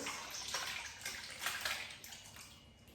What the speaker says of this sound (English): I'm going to pour in this fruit.